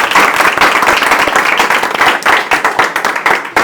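A crowd of students in a Chandigarh school audience gives loud, dense, sustained applause of many clapping hands, close and continuous with no talk over it.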